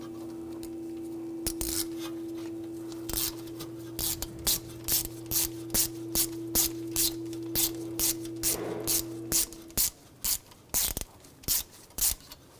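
A ratchet fitted with a 5 mm hex socket removes a screw from the front ABS wheel speed sensor on a 2011-2018 Volkswagen Jetta, clicking close by in a rhythmic series of short ratcheting bursts. A steady hum runs beneath the clicks at first.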